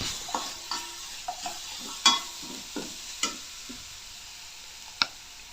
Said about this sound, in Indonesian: diaduk kembali.